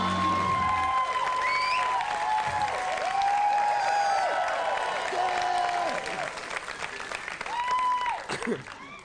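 A comedy club crowd claps and cheers to welcome a comedian on stage, a sustained applause bed under a voice talking over it.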